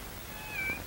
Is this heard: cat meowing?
yes